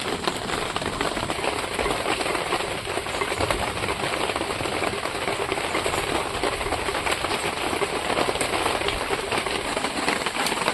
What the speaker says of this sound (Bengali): আজকে বৃষ্টি হচ্ছে